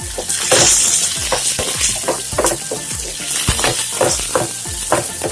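Turkey berries (chundanga) sautéing in hot oil in a pan for Palakkad-style puli, a loud continuous sizzle broken by repeated stirring scrapes and clinks.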